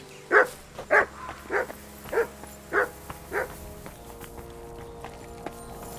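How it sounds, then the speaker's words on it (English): A dog in the video game Kingdom Come: Deliverance II barks about six times in a steady series, moderately close, then goes quiet over faint ambient game sound. "Good dog, Mats."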